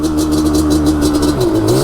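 A Yamaha Banshee ATV's two-stroke engine revs hard into its powerband, a loud, close, raspy whine that holds high and then drops in pitch near the end, with no talking.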